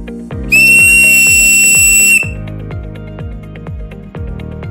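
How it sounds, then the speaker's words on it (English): A Seachoice Streamlined safety whistle, part number 46041, on a lanyard and meeting U.S. Coast Guard requirements, gives one loud, piercing, steady blast of about a second and a half over a regular ticking beat in the background. "starting smallest from largest, we have the Streamlined safety whistle, part number 46041, attached to a lanyard"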